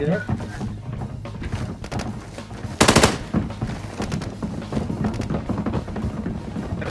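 Gunfire in the video game Arena Breakout, with bursts of rapid automatic shots and one loud, dense volley partway through. Someone talks over the firing for much of the time.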